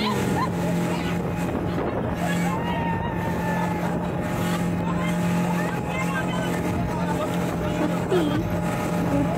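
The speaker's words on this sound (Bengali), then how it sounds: "আমরা জল চিরে বেরিয়ে পড়ছি।" A speedboat cuts across open water on a dam reservoir, a loud continuous engine roar mixed with wind buffeting and water rush throughout.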